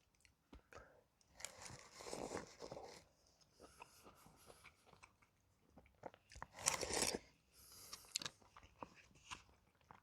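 Close, crisp crunching of someone chewing crunchy cabbage from a rehydrated freeze-dried borscht in several bursts, with quiet gaps between bites and no talking.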